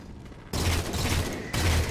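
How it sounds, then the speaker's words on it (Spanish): In the Halo 4 video game, a battle rifle fires two loud sustained bursts at Crawlers, each with a hard rattling onset. There is a short gap between the bursts, and no voices are heard. "saca rifle de batalla porque ahora vamos a matar a varios Crawlers"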